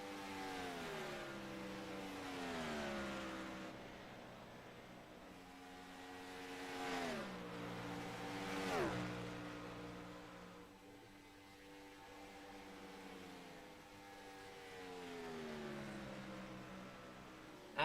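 Gen 4 Cup Series stock cars race at Las Vegas, engines rising and falling in pitch with a Doppler swoop as several cars pass one after another at moderate distance.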